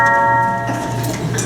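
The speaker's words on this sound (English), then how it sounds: "That was the doorbell!" A stage doorbell sound effect in a live theater murder-mystery play gives a short, loud chime at the start that rings briefly and fades away.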